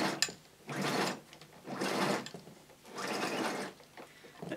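The power cord of a Hoover SC364 Vogue 1300 vacuum cleaner, a round cord with a fitted plug, rewinds sluggishly in three whirring, rattling bursts separated by brief pauses, close and fairly quiet.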